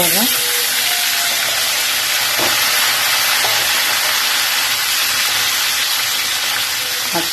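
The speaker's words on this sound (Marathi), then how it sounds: "आता कडक करून फ्राय करून घेऊ." Bangada fish frying crisp in a hot pan gives a loud, dense, steady sizzle and hiss that runs unbroken from start to finish, close up.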